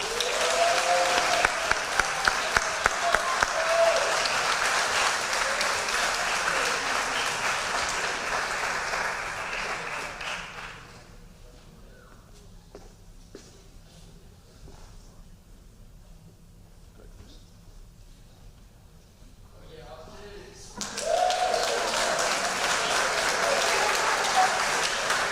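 An audience at a winter and spring athletic banquet applauds the varsity wrestling team: loud, dense clapping with cheers fills the room, fades to a quiet lull midway, then erupts again near the end.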